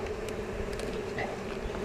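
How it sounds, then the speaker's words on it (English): A steady hum of many buzzing honey bees fills the air during a hive inspection, close and continuous, with no voices. "lots of bees up here. Look at all the bees."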